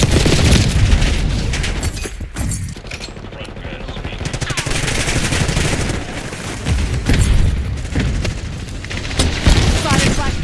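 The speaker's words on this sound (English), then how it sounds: "Sighted flashbang." A flashbang goes off in a Robocop Rogue City firefight, a loud burst amid continuous rattling gunfire and booms, dense and close throughout, with a voice briefly calling out over the combat.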